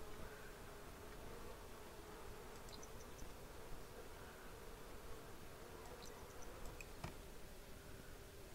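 Bees buzzing around a bee box on a farm in The Sims 4, a steady, soft, even drone that continues with only brief faint clicks and ticks rising above it.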